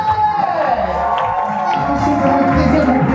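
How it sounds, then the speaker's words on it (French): A crowd at a cabaret revue cheers and whoops for the leader of the show, a loud sustained wash of shouting voices rather than distinct clapping. "Merci de faire un tonnerre d'applaudissements à notre sublime meneuse de revue"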